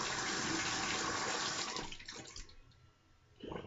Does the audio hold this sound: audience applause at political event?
no